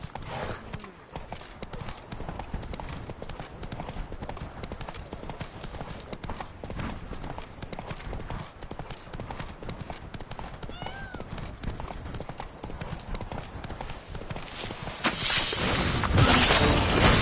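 Horse hooves gallop in The Witcher 3 in a fast, continuous clip-clop that runs steadily under game sounds and a speaking voice, growing louder and denser near the end.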